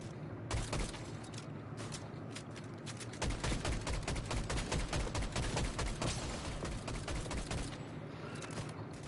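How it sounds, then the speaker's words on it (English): Rapid bursts of gunfire crackle without pause in a Fortnite match, dense overlapping shots and loud volleys filling the whole stretch, with no one speaking. "They're gonna try to shoot my bot. They're fighting with my bot right now."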